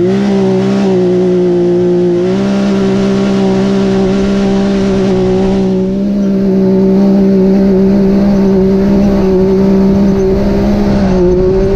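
A vehicle on paddle tires climbing a sand dune uphill in two-wheel drive and high gear, engine droning loud and steady at high revs, close, with a slight dip and rise partway through.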